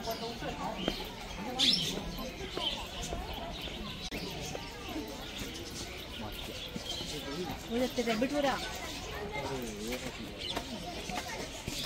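Shrill, squawky parrot calls come in bursts, nearby, mixed with people talking and chattering over them.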